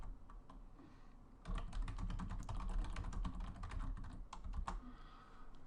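Computer keyboard typing as a question is entered into a custom user registration form, a faint quiet patter of keystrokes that thickens into a steady burst after the first second and a half.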